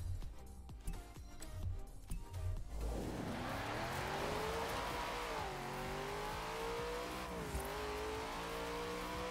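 Car engine in the Forza Horizon 4 racing game, revving hard and climbing through gears after a brief stretch of scattered clatter, loud and continuous with shifting pitch, tire squeal mixed in.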